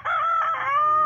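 A black Kadaknath rooster crows once, loud and close, a single drawn-out cock-a-doodle-doo lasting about a second with no talk over it.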